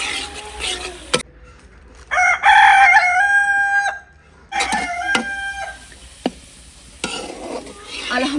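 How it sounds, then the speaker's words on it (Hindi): Chickens perched on a rural Punjabi village cot: a rooster crows loudly twice in long drawn-out calls, with clucks and light clatter in between, near and clear. "हमारी मुर्गियाँ देखें चारपाई के ऊपर बैठी हैं।"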